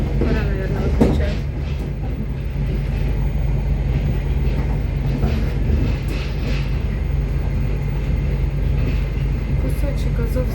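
Train number 140 rolling through the Azov region, heard from inside a carriage: a steady, loud low rumble with continuous rattling and faint wheel clatter that runs unbroken for about ten seconds.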